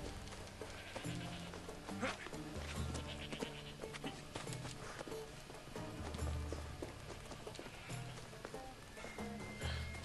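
A horse in Assassin's Creed Odyssey, faint clip-clop hoofbeats in a loose running rhythm, quiet and continuous beneath game ambience and soft talk.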